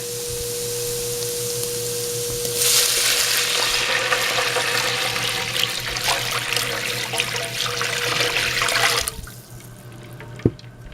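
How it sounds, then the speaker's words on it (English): Eight cups of water pour into a soup pot of sizzling butter and garlic, a loud rushing splash lasting several seconds before cutting off, followed by a single sharp clink. "And next we'll add our 8 cups of water."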